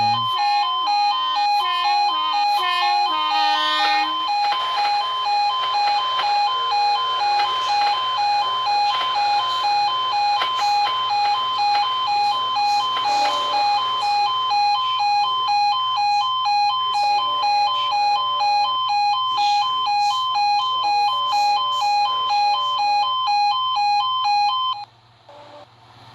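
Electronic level crossing bells from the Project Transit game ring in a steady, repeating tonal pattern for about twenty-five seconds, loud and continuous, then stop abruptly.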